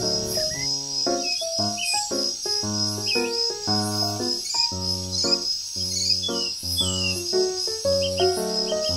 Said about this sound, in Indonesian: biasanya jantan jangkrik mengeluarkan suara yang khas untuk